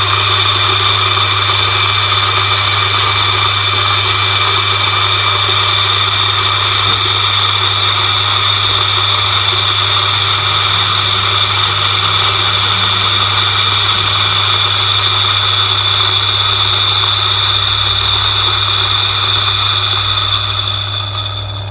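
A manual coffee grinder working through 20 grams of coffee, with steady, loud, continuous grinding, a persistent whine and a low hum, unbroken for the whole stretch.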